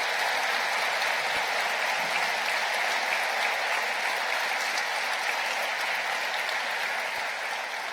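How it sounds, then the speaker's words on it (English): A steady, dense round of applause from a graduation audience honoring faculty and staff, loud and continuous for the full stretch with no voices rising above it. "All faculty and staff that are present, please receive a great round of applause."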